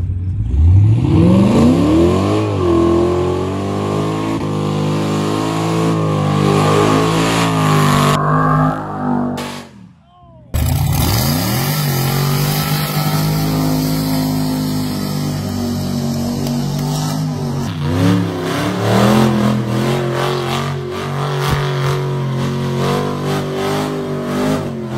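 Hell Force car fitted with a Hellcat engine, loud close revving that rises and falls in repeated pulls, cuts out briefly, then roars back with sustained high-revving blasts.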